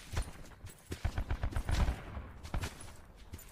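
Rapid gunfire from the video game Call of Duty: Black Ops 4, with bursts of shots in uneven clusters, loud and close throughout the match with no talking.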